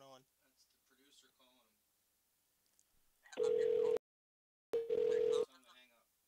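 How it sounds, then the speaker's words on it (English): Two loud, steady electronic telephone ring tones, separated by a short gap, cut in after faint talk on a call line. "Why is there ringing going on?"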